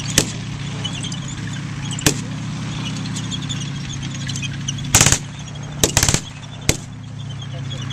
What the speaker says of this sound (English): we're using the 30 caliber light machine gun